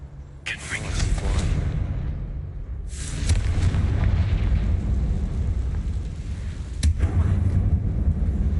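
Confringo spell blasts cast inside an abandoned mine in Hogwarts Legacy: two loud fiery bursts, each a sharp crack swelling into a long rumbling roar, then a third sharp snap near the end.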